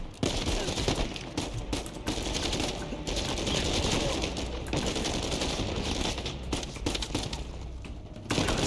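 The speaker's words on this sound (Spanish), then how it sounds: "Sam, necesito que tú pegues tiros, weón." Rapid bursts of automatic gunfire crackle through a firefight in the video game Uncharted 4, with repeated volleys and brief gaps over a busy game soundscape.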